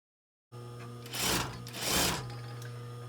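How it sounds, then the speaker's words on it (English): Sewing machine stitching fabric while upcycling clothes, a steady motor hum with two short bursts of fast rattling needle action, close and loud. "Before you pull, it is great to sink the needle into the fabric so that you don't just pull your whole foot off of where you were sewing."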